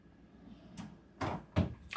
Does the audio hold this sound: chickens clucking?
no